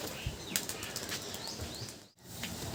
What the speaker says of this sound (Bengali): এই যে চলুন এই পায়রাটাকে ছাড়বো।